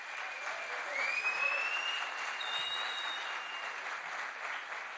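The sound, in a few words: applause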